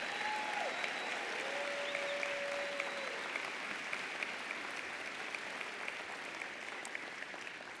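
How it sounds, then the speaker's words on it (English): Sustained applause for the graduating class at a spring social work commencement ceremony, a large audience clapping evenly and continuously from a distance with a faint whistle heard early on. "Another round of applause for our graduating class."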